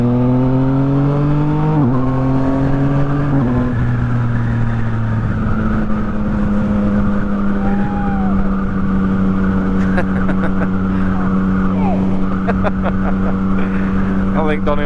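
A Yamaha MT-09 motorcycle ridden at night with a passenger, its engine loud and close, shifting through gears with rising pitch before settling into a steady cruising drone.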